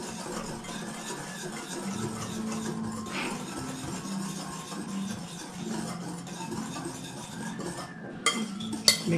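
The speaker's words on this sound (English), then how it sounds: "Then I mix the dry ingredients before I start putting in the wet ones." A spoon scrapes and stirs dry muffin ingredients in a bowl with a soft, steady, close-up rustle. A few light clinks against the bowl come near the end.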